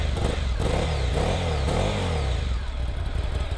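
A Ducati Monster 797 motorcycle on its stock exhaust revs up and back down in several rising and falling sweeps, giving a muffled but close, fairly loud engine note.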